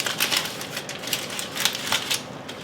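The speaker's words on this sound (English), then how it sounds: "Unwrap our garlic clove." Foil crinkles and rustles as it is peeled away from a roasted garlic clove, a run of close, quick papery crackles with no talk.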